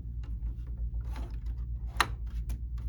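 An embroidery hoop loaded onto a Viking Ruby 90 embroidery machine: soft mechanical clicks and ratcheting ticks close by, with one sharper snap near the end over a low steady machine hum.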